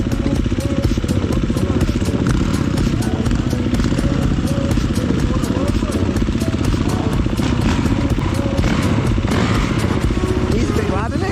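A Honda enduro motorcycle roars continuously at close range over rough Barmouth terrain, its engine note loud and constant with clattering underneath, while people talk over it.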